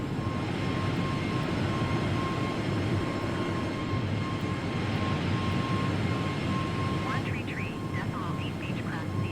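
An Airbus A320 climbs in Microsoft Flight Simulator 2020, giving a steady, even jet engine roar with a constant tonal whine throughout, while a voice makes radio calls over it.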